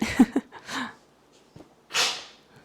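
A few soft snorts and breaths lead up to one sharp, sneezy burst from a sick cat, close by in a quiet room.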